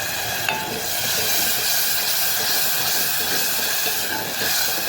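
Tomato puree sautés in a hot pan for anda ghotala, producing a strong, steady steam-like hiss that holds evenly across the whole stretch, close and with no speech.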